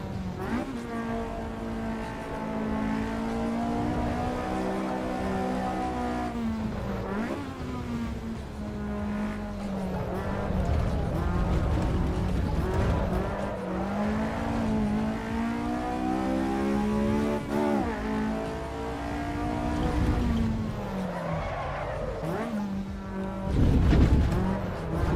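Caterham car engine in Assetto Corsa EVO revving hard through a sustained run, its rising and falling harmonic whine climbing through the power band with brief lifts between gears, loud and continuous.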